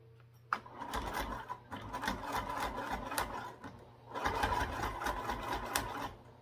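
A sewing machine runs a second line of stitching along a sling strap, its rapid mechanical chatter running in two close, moderately loud stretches with a brief pause between them and no talking.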